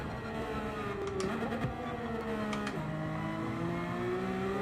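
Subaru BRZ engine in Gran Turismo 7, a steady droning hum with rising and falling pitch as the car accelerates and shifts, continuous and fairly quiet throughout.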